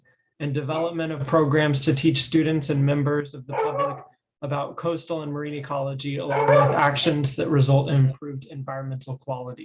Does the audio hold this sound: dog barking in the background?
yes